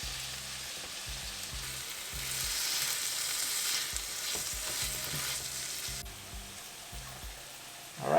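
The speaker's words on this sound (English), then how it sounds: "Now we'll go ahead and add the tomato in. We'll let this simmer for a few minutes." Tomatoes simmering in a pan for dhaba-style dal tadka, a soft steady sizzle and bubbling with faint stirring scrapes, quiet and close, with no voices.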